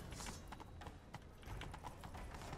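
Galloping horse hooves in The Witcher 3 video game, a quick, fairly quiet clip-clop rhythm pounding steadily through the short stretch.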